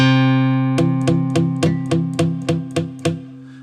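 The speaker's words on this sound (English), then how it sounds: "sometimes you're going to get dead notes that sound like this." A sustained guitar tone is cut by about nine sharp, muted plucks, evenly spaced dead notes that thud briefly without ringing, played up close with no talk.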